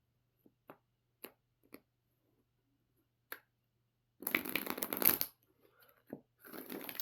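Oracle cards being shuffled up close: a few soft isolated taps and flicks, then two bursts of riffling and sliding cards, quiet and alone with no voices.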